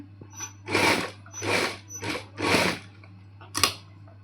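A sewing machine stitches lace onto a round neckline in short bursts: four sustained runs of whirring stitching separated by brief pauses, then a quick final burst, close and moderately loud over a steady low motor hum.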